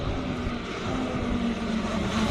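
A Ferrari 488 GT3 race car roars steadily at a hill climb in Cape Town, its engine loud and continuous with a sustained drone throughout, no voices heard.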